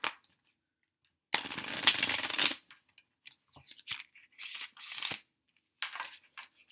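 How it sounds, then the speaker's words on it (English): A Low Rider tarot card deck is shuffled close up in several quick bursts of riffling, crisp card flutters separated by short pauses and light handling clicks, with no talking. "Shuffles beautifully"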